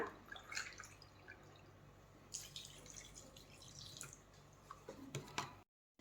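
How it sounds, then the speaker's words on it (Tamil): Water poured into a bowl of curd while mixing idli batter in a home kitchen, heard as a quiet, uneven trickle and splashing spread across several seconds, with a brief silence at the end. "அதில் வந்து நான் ஒரு போ தண்ணி ஊற்றுறேன்"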